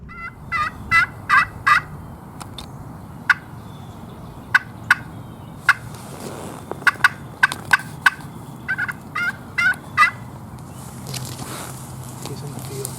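A wild turkey gobbles repeatedly from a stationary spot in the field, sharp rattling calls in clusters, fairly close, with a few faint rustling sounds in between.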